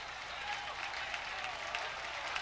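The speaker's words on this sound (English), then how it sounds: "Crowd getting into it now" High school football crowd at a 1999 Moeller vs Elder game roaring in a steady, distant wash of cheers under a sideline commentator's voice.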